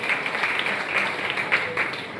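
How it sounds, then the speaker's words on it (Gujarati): A school audience applauds a student at a soft-skills program at L D High School, with a dense, steady patter of clapping lasting the whole moment and no one speaking over it. "એ પરિવારની દીકરીને આપણે તાળીઓના ગડગડાટથી વધાવી લઈએ"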